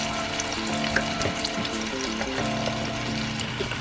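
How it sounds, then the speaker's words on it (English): Chicken broth poured into a hot pan with cooking chicken, a loud continuous sizzle and bubbling fry close up, with faint clinks and stirring and no talk. "I'm going to take my chicken broth and just pour a little bit"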